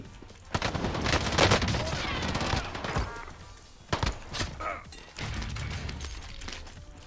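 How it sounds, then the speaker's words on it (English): Rapid bursts of automatic gunfire ring out in a shooter video game, dense and loud at first, then scattered single shots and clicks, while a player's voice talks over parts of it. "Where was that guy that was shooting?"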